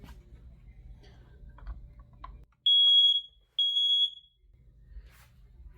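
Two loud, piercing electronic beeps from a smoke alarm under test on a 9V PKCELL battery, each about a second long, breaking into a quiet room with faint handling noise before and after.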